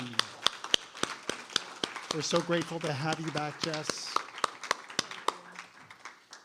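At a faculty presentation, sparse, evenly spaced sharp claps ring out from the audience for photographer Jess Dugan, while a voice speaks over them.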